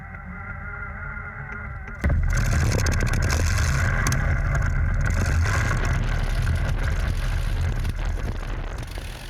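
A vintage aircraft's Griffin B-12 piston engine roars to life during a taxi run-up after two seconds of lower rumble, then holds a steady, heavy drone with rough mechanical texture throughout.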